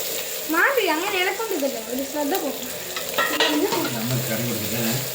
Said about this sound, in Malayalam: എല്ലാം കൂടെ ഇളക്കി ബ്രൗൺ കളർ ആക്